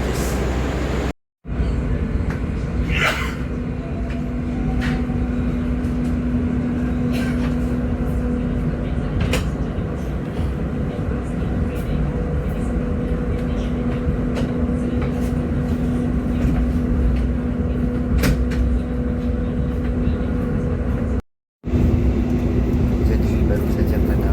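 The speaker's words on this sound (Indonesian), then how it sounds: "Baru saja kereta api Sancaka berangkat dari stasiun Jombang" The Sancaka passenger train runs on after leaving Jombang station in Java, heard from inside as a steady rumbling roar with rhythmic wheel clatter, while a voice talks over it throughout.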